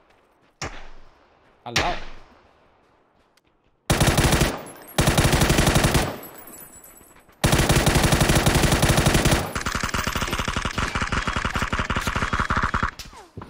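Bursts of video-game gunfire in PUBG on the Miramar map: two short single shots, then loud sustained automatic fire in several long bursts with brief gaps. A voice speaks briefly.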